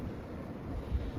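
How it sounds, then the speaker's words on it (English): Winter wind gusts across a UK shoreline while someone fishes, producing a low, rumbling buffet against the microphone that swells slightly and continues with no talking. "The wind isn't helping"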